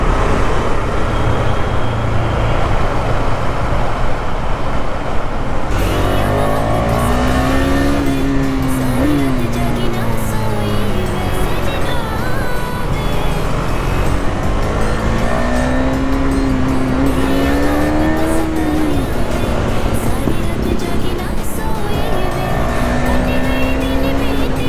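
A modified car engine revs and drives, a loud continuous roar with rising and falling rev sweeps repeating several times over steady road noise.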